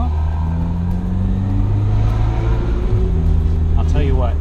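A small mint green soft-top car with a 75 hp turbocharged motor drives along, its engine humming steadily with a low rumble, heard from inside while people talk over it.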